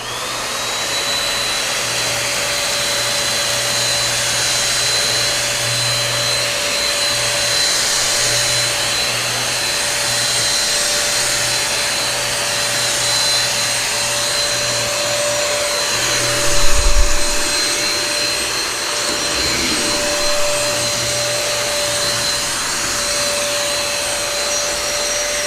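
A Nikai mini vacuum cleaner, run with its handles removed, sucks cracker crumbs off a table with a loud, steady whir that holds throughout, broken only by a few brief pickup rattles.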